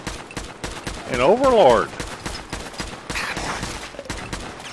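Rapid gunfire in Fallout 4 during a battle with legendary super mutants, a steady stream of close shots rattling on while a voice talks over it.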